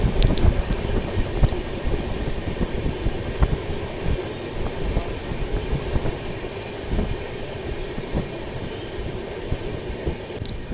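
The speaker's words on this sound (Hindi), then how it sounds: "ट्रेन अपनी निकल चुकी है।" The 12152 Samarsata Express rumbles along at speed, a continuous close rolling roar of wheels and carriage rattle with occasional clicks and knocks, no voices over it.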